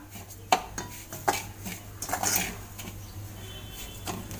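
Semolina stirred in ghee in a metal pan over low heat: a few sharp scraping clinks of a spoon against the pan, with a soft steady frying hiss and a low hum underneath.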